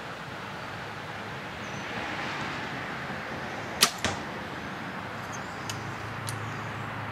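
An arrow released from a Winchester Black Horse compound bow with two-track binary cams, a brief quiet snap and thud over steady outdoor background noise, followed by a few faint distant ticks.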